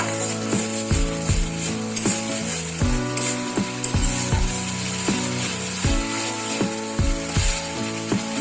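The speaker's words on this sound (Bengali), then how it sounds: "মশলাটা খুব ভালো করে কষানো হয়ে গেছে, ওপরে তেল উঠে গেছে।" A spice paste for yam kofta curry sautés in oil, giving a continuous close sizzle under a recurring rhythmic mechanical whir and clatter. There is no talking.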